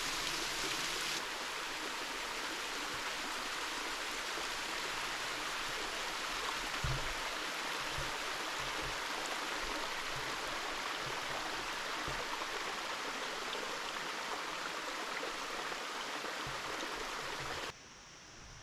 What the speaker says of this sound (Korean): 이게 폭포구나. 멀리서만 보던 무지치 폭포.